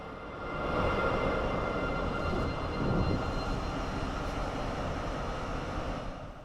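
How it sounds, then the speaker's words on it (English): A newer Pesa Gama diesel locomotive, built in Poland around 2014 and capable of 160 km/h, gives a loud, steady rumbling drone that swells in, holds and then fades at the end, with no voices. "Taking on the next 183 kilometers to Lithuania will be a newer diesel locomotive, which definitely looks very distinctive."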